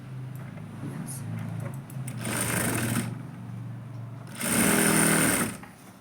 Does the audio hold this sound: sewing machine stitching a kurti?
yes